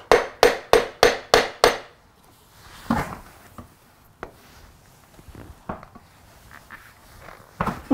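A hammer taps a stator cover into place on a Kawasaki Z900 motorcycle engine: six quick, sharp, evenly spaced metallic knocks, then lighter scattered taps and handling clatter, close and clear with no voices.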